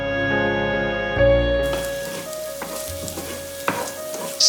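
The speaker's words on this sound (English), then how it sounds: "Toss in your shallots and then add in your chopped garlic" Shallots and chopped garlic hit olive oil in a pan and sizzle, a strong fizzing burst with stirring clatters, layered over a steady musical tone that fades out early.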